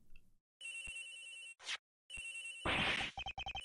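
A mobile phone rings in the Ace Attorney Investigations video game, its electronic ringtone sounding in repeated bursts with short gaps and a brief staccato pattern near the end.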